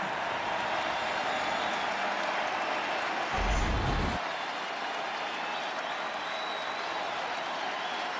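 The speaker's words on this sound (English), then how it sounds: "Gets this crowd revved up a little bit." A baseball crowd at World Series Game 1 between the Arizona Diamondbacks and the Texas Rangers roars and applauds in a dense, continuous wash. It swells briefly midway and then holds steady.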